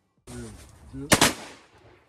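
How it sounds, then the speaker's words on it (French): Shotgun fired at wood pigeons perched in a tree: two loud, sharp blasts in quick succession, close by, just after someone speaks. "Il tire donc à 5 fusils car il y en a une qui était intirable."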